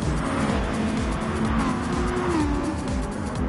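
Race car engines roar continuously in the video game Gran Turismo Sport, a loud steady drone with shifting pitch and tire noise, with no talking.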